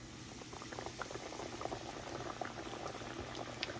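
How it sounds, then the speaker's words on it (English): Chicken fries in vegetable oil in a cast iron skillet, giving a steady, close crackling sizzle scattered with small pops and spits throughout, with no voices over it. "So I'm gonna start frying up this chicken. I'm using vegetable oil,"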